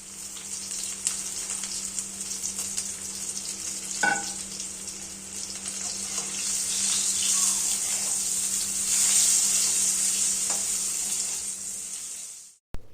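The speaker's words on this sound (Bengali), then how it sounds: "গরম তেলে টুকরো করা বেগুনগুলো দিয়ে দেব।" Chopped eggplant pieces fry in hot oil with a steady, loud, even sizzle that carries on without a break, with a few faint clinks partway through. No one speaks.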